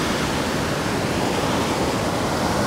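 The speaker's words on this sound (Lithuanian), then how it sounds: "Nu štai, turim vandenyną" Ocean waves wash onto a shore in a steady, broad roar of surf, loud and continuous with no clear breaks between waves, no voices.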